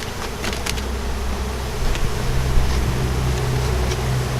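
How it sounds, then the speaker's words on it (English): A dense, continuous buzz of honeybees swarms around a hive being installed outdoors. It is close and fairly loud, with a low steady hum that swells slightly midway, and there is no talking. "Dick, when you flip those bees in from the outside in"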